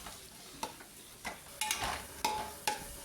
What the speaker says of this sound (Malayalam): അത് മീഡിയം ഫ്ലെയിമിൽ ഇട്ടിട്ട് തന്നെ നല്ല പോലെ വഴറ്റി കൊടുക്കുക